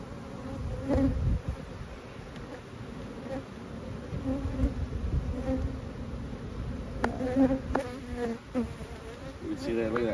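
Honey bees from a pollination hive buzz steadily around the open hive, a dense and continuous drone close by with no voices.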